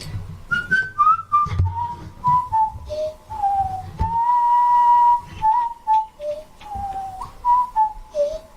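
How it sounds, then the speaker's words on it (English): A person whistles a wandering melody of sustained and sliding notes, close and clear, with short pauses between phrases and no talking. "How's the whistling sounding?"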